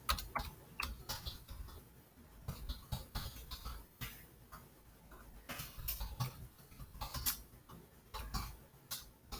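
Fingers typing a project name on a computer keyboard, with quiet, close, irregular bursts of key clicks and short pauses between them.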